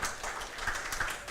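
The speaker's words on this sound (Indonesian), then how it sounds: "Kita tepuk tangan dulu yang meriah nih" Applause from an audience at an outdoor interactive dialogue event, a steady dense patter of clapping lasting the whole short stretch with no pause.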